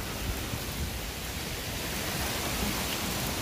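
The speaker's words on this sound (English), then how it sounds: "There's actual hail, look. It's really hailing out." Hail and rain pour down outside during a dark thunderstorm, a dense, steady hiss of falling drops and pellets that stays constant and close throughout, with no voices.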